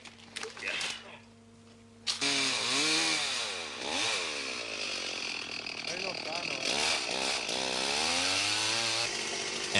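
Chainsaws cut through jungle to reopen a route on Sulawesi during the Camel Trophy, their engines loud and close, revving up and down in long rising and falling whines over steady background noise.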